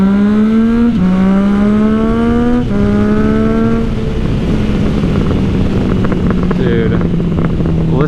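Yamaha MT-09 motorcycle with a freshly flashed ECU, its engine note rising through the gears in loud harmonic sweeps, then settling into a steadier drone under wind noise with a voice talking over it.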